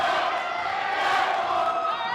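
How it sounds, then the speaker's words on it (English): Home crowd at a high school basketball game between Mifflinburg and Montoursville roaring steadily, a dense wall of cheering and shouting in a packed gym with no pause. "You hear the crowd here."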